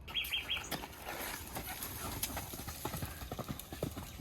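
Horse hooves loping across the ground on a ranch in Mexico, a steady rolling clip-clop rhythm of three-beat footfalls, fairly close, with bird chirps early and outdoor ambience around.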